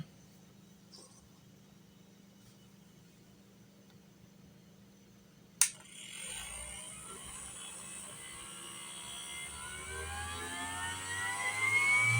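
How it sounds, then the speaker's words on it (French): A 3D-printed turbo fan driven by a 280 motor spins up for a thrust test after a sharp click, its whine rising steadily and growing louder with climbing tonal harmonics over a faint background hum. "Bon, fait que test de poussée d'air pour la version 1."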